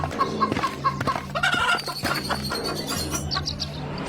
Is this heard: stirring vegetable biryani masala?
no